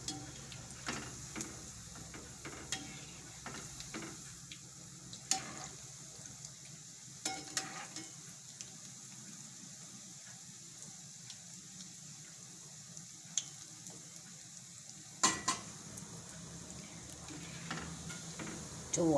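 Quiet, steady sizzling of dana vadi frying in oil, with occasional clicks and taps of a utensil against the pan.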